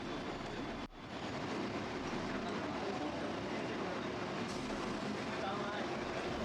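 A local train on the Howrah–Barddhaman chord line runs near Bally, giving a loud, continuous rumble and rattle heard from inside the coach. A brief dip comes early, and a voice talks over the noise.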